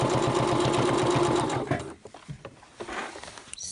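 A sewing machine stitches a softshell jacket sleeve seam in a steady rapid run for about a second and a half, then stops, followed by light handling clicks and rustles.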